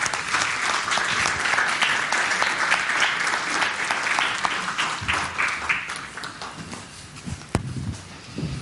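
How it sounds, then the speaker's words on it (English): A church congregation at a camp Sunday service applauds the youth camp group, steady clapping that thins out and tapers off toward the end, with a faint voice and a sharp knock late on. "Let's give them a round of applause"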